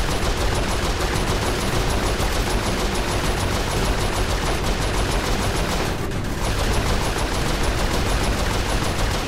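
Dense, continuous gunfire from the Saints Row IV video game, with rapid volleys of shots blending into a steady roar that holds loud and unbroken for the whole stretch, with no talking over it.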